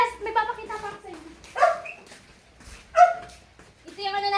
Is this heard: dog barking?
yes